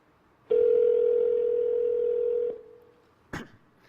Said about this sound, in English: I'll call his mobile number right now.